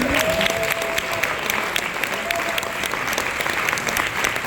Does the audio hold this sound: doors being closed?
no